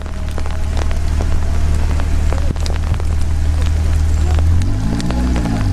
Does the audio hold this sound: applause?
no